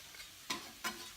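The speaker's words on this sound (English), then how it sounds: "I'm going to let that fry for" Crushed garlic frying with onion in a pan gives a quiet, soft sizzle with two brief scraping stirs.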